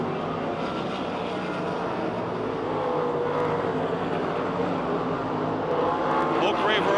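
Dirt track race cars roar around Pennsylvania Motor Speedway in Pittsburgh, a loud continuous engine drone that swells slightly as the pack passes, with a track announcer's voice running over it.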